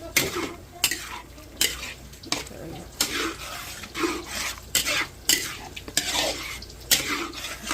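Beef stroganoff being stirred in a pan, a utensil scraping and clanking against the metal in a steady run of sharp strokes over a soft sizzle, close and fairly loud, with no talk.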